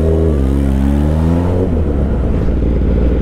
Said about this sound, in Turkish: Baba bu nasıl bir trafik ya?